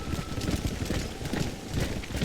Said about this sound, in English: they jump on their horses and take off looking for the cattle